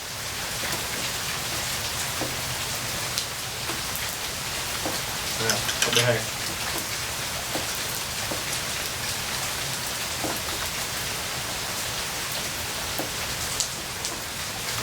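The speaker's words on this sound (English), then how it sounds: "You can see it's raining here in Florida" Steady rain falls on a surface outdoors in Florida, a dense continuous patter of drops throughout with a brief louder burst midway and faint speech beneath.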